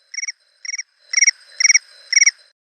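The iPhone Crickets ringtone plays alone and clean: two short electronic chirp bursts, then three longer trilled chirps, evenly spaced, bright and synthetic, ending in silence.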